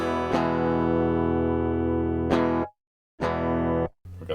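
An electric guitar played through a rare Canadian overdrive distortion pedal rings out in long sustained distorted chords, struck three times and cut off sharply with short silences between, loud and close.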